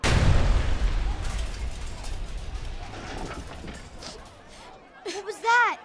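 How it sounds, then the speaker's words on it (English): An explosion: a loud, deep boom right at the start fades into a long rumbling decay, and voices rise near the end. "I think something exploded."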